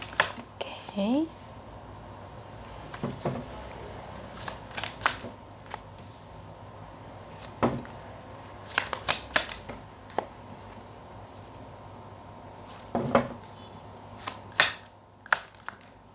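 Tarot cards being shuffled and tidied by hand: scattered soft riffles, flicks and taps come in irregular clusters over a quiet background, with no talking.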